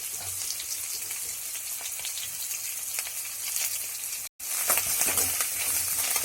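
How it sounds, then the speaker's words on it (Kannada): Mustard seeds, cumin, garlic and ginger sizzle and crackle steadily in hot oil for coconut rice, a soft continuous frying hiss with small pops and a brief gap near the end. "ಸಾಸಿವೆ, ಜೀರಿಗೆ, ಬೆಳ್ಳುಳ್ಳಿ, ಶುಂಠಿ ಸ್ವಲ್ಪ ಎಣ್ಣೆಯಲ್ಲಿ ಚೆನ್ನಾಗಿ ಫ್ರೈ ಆದ ನಂತರ"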